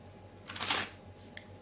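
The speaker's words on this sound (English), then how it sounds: "just want to shuffle the deck" A deck of tarot cards is riffled once in a quick, soft flutter, close and fairly quiet over faint room hum, followed by a couple of light taps.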